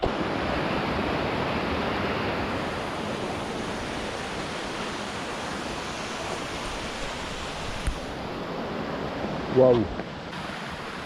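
Rushing water of a mountain torrent on the GR20 trail in Corsica fills the scene with a steady broadband roar, loud and continuous, with a brief exclaimed voice near the end.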